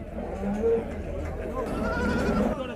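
Goats and their kids bleating at a livestock market in Van, with several bleats rising over crowd chatter and nearby talk.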